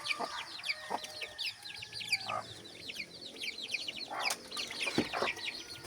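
A hen with her young chicks in a farmyard: a steady stream of high, thin peeping from the chicks fills the whole stretch, with a few lower, louder clucks from the hen breaking in, close by.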